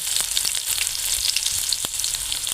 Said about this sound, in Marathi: लसूण आहे तो टाकतो. आणि थोडासा कांदा टाकणार आहे.